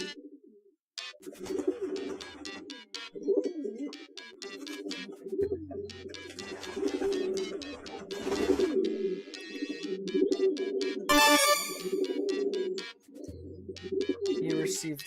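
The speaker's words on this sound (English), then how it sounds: "You mean one of your pigeons, don't you?" Pigeons coo in the video game Hiveswap, soft rolling calls repeating throughout over a steady game soundtrack, with a few brighter chirping bursts mixed in.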